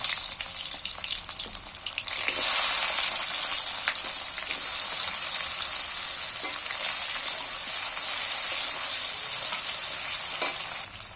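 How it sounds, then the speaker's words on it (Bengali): Large-cut onions hit hot oil with whole cumin seeds, bursting into a loud, close, dense sizzle after a quieter start, then holding a steady crackling hiss with occasional faint ticks. "পেঁয়াজগুলো তেলের মধ্যে তুলে দিচ্ছি"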